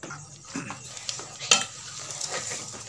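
Sugar being stirred into pumpkin halwa in a pan, with a spoon scraping and clinking against metal over a light sizzle, close and moderately loud, including one sharp clink midway; no speech.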